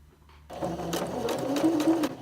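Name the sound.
sewing machine backstitching fabric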